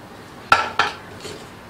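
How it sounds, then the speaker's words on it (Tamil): A spoon scrapes twice against a pan while a lotus seed makhana laddu mixture with cashews and dates is stirred over a slow flame, giving two sharp clinks close by and then a faint scrape. "நல்லா கிளறி விடுங்க."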